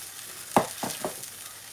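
A spoon stirs white sauce for pasta in a pan over medium-low heat, giving a few soft scraping strokes against a faint background sizzle.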